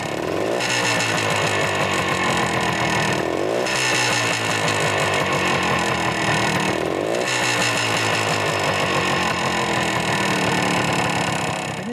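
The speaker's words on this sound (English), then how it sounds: "I just twisted this arm up to full feed on the oil pump and ran the engine" Kawasaki F11 two-stroke motorcycle engine running outdoors on gravel with the oil pump set to full feed, a loud raspy buzzing idle interrupted by two brief revs or dips before settling back to a steady drone.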